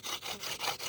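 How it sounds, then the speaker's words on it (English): A wooden hand-drill spindle spins back and forth in a hearth hole, producing rapid, rhythmic scraping friction strokes in close succession, close and fairly loud with no speech. "We're just spinning, warming it up, getting that hole shaped to the tip of the spindle."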